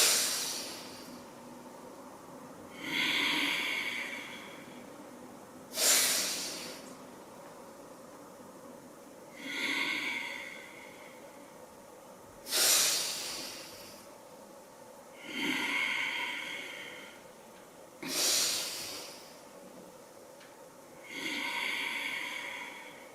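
An instructor's breathing during seated yoga shoulder circles, with slow audible inhales and exhales repeating in an even rhythm about every three seconds, close and clear in a quiet room.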